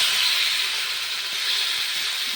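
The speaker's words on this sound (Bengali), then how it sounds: "অপর পিট তারপর ভেজে নিচ্ছি লাল করে" Rohu fish pieces fry in a pan of oil with a steady, close, even hiss and no voices over it.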